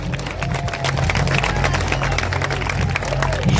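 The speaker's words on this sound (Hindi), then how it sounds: "इन बहादुर मरीन कमांडोज को हमारी तालियों की गड़गड़ाहट सुनाई पड़नी चाहिए।" A large outdoor crowd at a Navy Day event at Tarkarli beach in Malvan claps and cheers for marine commandos arriving by air, dense sustained applause mixed with a loudspeaker announcer's voice.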